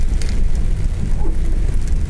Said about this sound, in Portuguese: A chuva aqui tá mais forte.